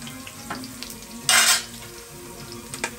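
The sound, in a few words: garlic frying in hot fat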